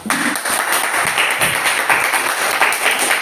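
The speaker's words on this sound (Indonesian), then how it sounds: "Tepuk tangan buat Arjuna." Classroom applause from students during a school lesson, a steady burst of clapping filling the room for about three seconds with no talk over it.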